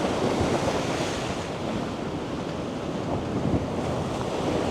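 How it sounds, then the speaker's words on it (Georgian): Large sea waves breaking on the Albanian coast in bad weather, a continuous loud roar of surf with heavy wind buffeting the microphone throughout, no voices. "კაი დიდი ტალღა მოდის"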